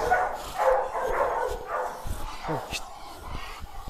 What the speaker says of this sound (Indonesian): Ini anjing gila banget nih.